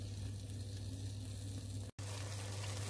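Tomato fries in a pan for pork binagoongan, giving a steady, close, even sizzle that runs without a break apart from a sudden momentary drop near the end, with no talking.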